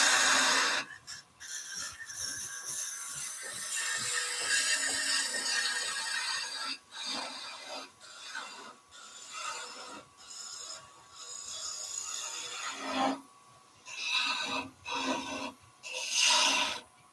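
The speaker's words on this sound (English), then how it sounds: "A little bit of sanding probably needed." Wood being sanded as it spins on a woodturning lathe, a steady rasping rub that starts and stops in bursts over the hum of the machine, fairly quiet with no talk.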